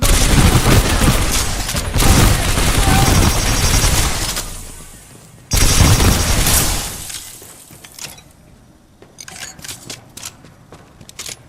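Loud, dense bursts of gunfire and booming grenade explosions from the video game Titanfall 2 come in two heavy waves, then thin out into scattered shots and softer clatter.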